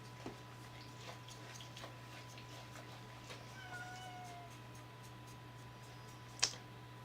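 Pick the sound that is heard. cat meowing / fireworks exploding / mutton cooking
cat meowing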